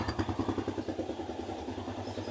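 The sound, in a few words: motorcycle engine being started and running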